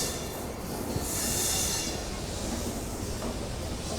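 The Mumbai Indore Duronto Express rumbles past close by, a loud continuous roar of rolling wagons with a brief high wheel squeal, steady for the whole stretch and free of speech.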